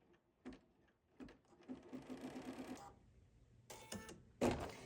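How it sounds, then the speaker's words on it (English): A sewing machine sews a placement stitch on quilt fabric in a short, quiet run of rapid stitches lasting about a second, surrounded by soft handling clicks and rustles of fabric. "And now we're going to stitch the placement stitch."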